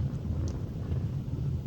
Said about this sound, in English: you can hear the wind in the background.